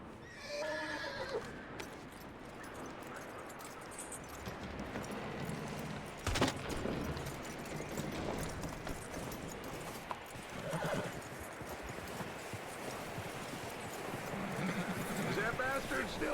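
A horse in the Red Dead Redemption 2 video game whinnies near the start, and hooves clip-clop steadily along beneath, with game characters talking over parts of it.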